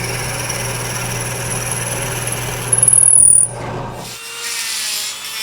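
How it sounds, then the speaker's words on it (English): A Dremel rotary sander grinds and rubs against a carved wooden turkey bone for a napkin holder, a steady close buzzing motor with a sharper whine in the middle before it cuts out. "I'm just using my Dremel sander to start making the bone shape."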